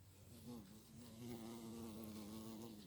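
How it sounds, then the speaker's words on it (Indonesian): A large bee buzzes close by among kenikir flowers in a garden, a steady droning hum that wavers slightly in pitch as it hovers, heard alone and fairly faint. "Wah ini ada lebah sangat besar sekali nih."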